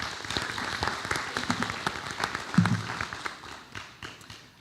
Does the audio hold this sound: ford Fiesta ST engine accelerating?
no